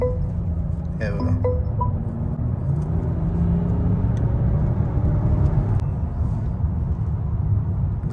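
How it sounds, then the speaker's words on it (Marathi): A Mercedes GLS AMG Line luxury seven-seat SUV accelerates on the road, its engine a steady low rumble and whir from inside the cabin, with a brief clink early on and road noise throughout. "आता आपण ड्राईव्ह करतोय GLS AMG लाईन मॉडेल आहे. आता याचा पिकअप बघू आपण."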